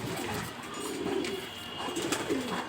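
Racing homing pigeons held in the hands coo softly and repeatedly up close, their low throaty calls rising and falling over a faint background hum.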